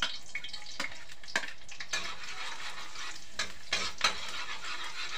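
Garlic sautés in a pan for Filipino chicken-offal dinuguan, a low steady sizzle punctuated by several sharp utensil scrapes and taps against the pan, with no voices.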